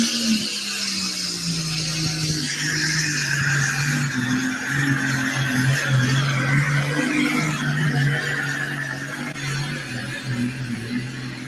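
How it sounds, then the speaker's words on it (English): A turbocharged pulling tractor launches down the track at a tractor pull. Its droning engine note climbs in pitch and stays loud for several seconds, layered with a whistling turbo hiss and crowd-like background noise. "Well, he's the first tractor out."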